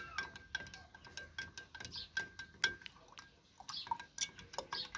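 A small stick stirs a milky mixture in a container while sowing cactus seeds, making light repeated clinks and scrapes in an irregular rhythm, close and fairly quiet.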